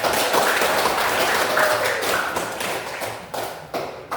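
Students in a classroom clap for a classmate's good answer, a loud, close patter of many hands that thins out toward the end with a few last scattered claps.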